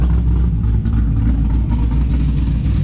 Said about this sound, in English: Listen to a little bit of exhaust.